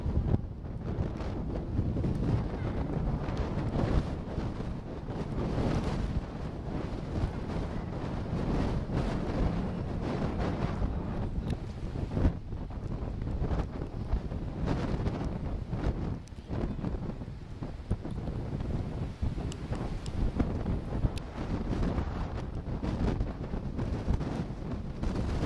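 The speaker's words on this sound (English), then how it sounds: "Yeah, it's pretty windy." Strong wind buffets the microphone continuously beside a bridge in San Francisco, a loud, rough, unbroken rumble with constant gusty fluctuations and no voices.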